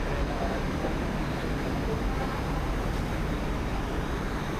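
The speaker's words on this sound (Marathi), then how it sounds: "11:02 ही ट्रेन आपल्या प्लॅटफॉर्मवर आली." A train at Belapur station platform, a dense, steady rumble that fills the whole stretch with no pauses, loud and close, with no voices over it.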